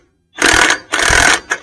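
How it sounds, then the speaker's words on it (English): Big 3/4 inch DeWalt impact driver hammering on the hub of a 1937 Packard 120 Cabriolet, two loud rapid rattling bursts and a brief final blip, close and without talk. "we've got our big 3/4 inch DeWalt impact driver, and we're going to screw this down and we'll see what happens"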